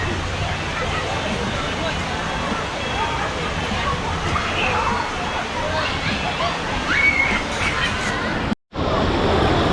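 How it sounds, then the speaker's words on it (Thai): Steady rushing water at Wang Takhrai waterfall, a continuous broad wash of flowing and sloshing water with faint voices in the background and a brief dropout near the end. "ข้างล่างก็จะเป็นน้ำไหลนู่น"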